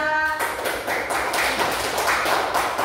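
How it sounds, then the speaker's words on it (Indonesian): Group in a training class applauding, a steady stretch of brisk clapping close by that carries through to the end. "beri tepuk tangan untuk kelompok 3"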